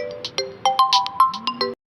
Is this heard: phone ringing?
yes